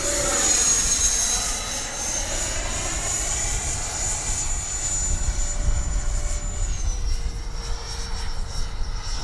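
An FMS 80mm F-86 RC jet with its electric ducted fan makes a gear pass overhead, a steady high whine that holds, then drops in pitch as the throttle eases while the plane passes at moderate distance.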